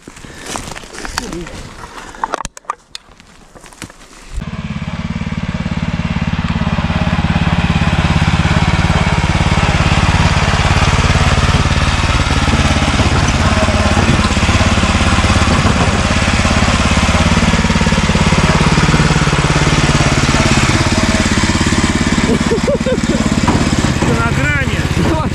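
A motorcycle engine starts after a few seconds of quiet and then runs steadily and loudly close by, with a rough droning idle that holds for the rest of the clip.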